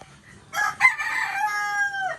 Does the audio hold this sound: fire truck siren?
no